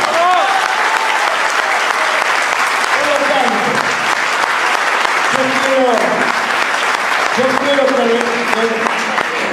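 Steady, loud applause from an audience at a public health talk fills the whole stretch, with a voice speaking over it in bursts.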